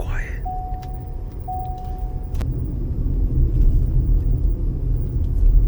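A Ford Mach-E electric car drives along quietly, a soft low road and tire rumble that slowly swells as it gathers speed, with a brief electronic chime early on and people talking inside the cabin.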